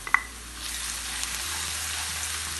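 Ginger garlic paste sizzling as it fries with browning onions in a pan, a steady close hiss with a brief clatter at the start as the paste goes in.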